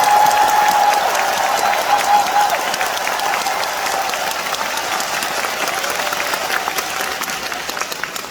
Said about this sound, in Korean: 우리 국악단 여러분들께도 뜨거운 박수 부탁드리겠습니다